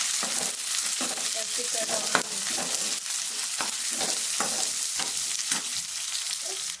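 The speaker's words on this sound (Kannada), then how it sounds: "ಈ ಸ್ವಲ್ಪ ಅರ್ಧ ಬೆಂದೇನೆ ಈರುಳ್ಳಿ ಹಾಕೋಣ" Onions frying in a pan for tempering, a close, crackling sizzle broken by repeated scraping stirs in an irregular rhythm, with no speech.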